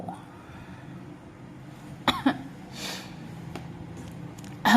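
A few short coughs ring out over a quiet room tone, with a louder burst at the very end.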